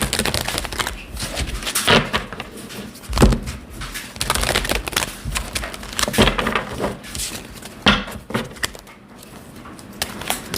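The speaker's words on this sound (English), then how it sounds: "Get a couple more shuffles in." Tarot cards are shuffled close by in irregular rustling bursts, with occasional knocks and soft thumps as the deck is handled.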